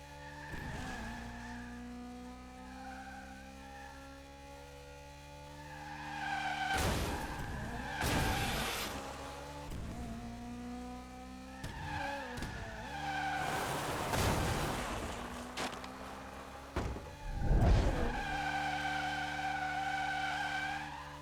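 Race cars in the video game Split Second skid with loud, sweeping tire squeals over a steady engine drone. Bursts of whooshing and impact noise break through several times, and there is no talk.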